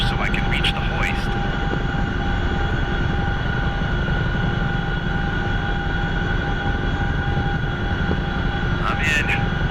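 A CH-47 Chinook helicopter holds a hover during a combat search-and-rescue hoist in the DCS flight simulator. Its steady, loud rotor drone and engine whine fill the whole clip, with brief radio clicks at the start and end.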